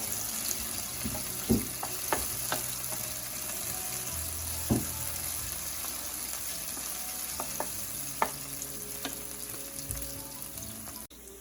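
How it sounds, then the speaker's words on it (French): Onions sauté in a pan with a continuous soft sizzle, broken by a few sharp knocks and scrapes of a utensil stirring, close up with no speech. "Donc je vais faire revenir mes oignons."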